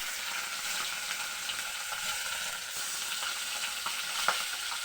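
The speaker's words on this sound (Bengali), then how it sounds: "এবার মাছগুলো আমি দিয়ে দেবো। মাছের মধ্যে নুন হলুদ মাখিয়ে রেখেছিলাম।" Fish rubbed with salt and turmeric sizzles steadily in hot oil in a wok, a continuous close frying crackle with small pops and no talk.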